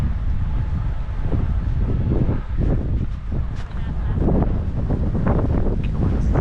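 Gusty wind on Deer Island buffets the microphone in loud, rumbling bursts that rise and fall unevenly throughout.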